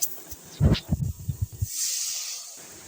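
Rui fish curry broth with potatoes comes to a boil in a pan: a few clattering knocks and thumps give way to a soft, steady hissing bubble near the end.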